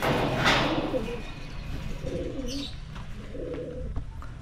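Young racing pigeons at a loft, soft throaty cooing in repeated short phrases with faint chirps and wing flutter, fairly near over a steady outdoor background, no voices.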